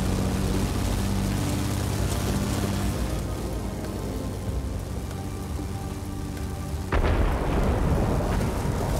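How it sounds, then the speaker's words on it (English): Heavy rain hiss and rolling rumble from a thunderstorm in the World of Warplanes game, blended with a droning aircraft engine, with a fresh louder surge of storm noise partway through. "Be advised, a line of thunderstorms is approaching."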